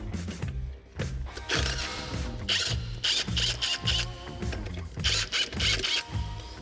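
A lug nut welded onto a safety lug is backed off a Camaro wheel, heard as a close, steady train of rhythmic mechanical ratcheting pulses with a few sharper bursts.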